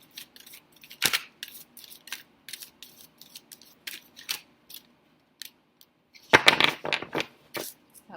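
A large, stiff deck of oracle cards is shuffled by hand, giving sparse sharp papery snaps and clicks in uneven bursts, with a louder flurry of riffling near the end.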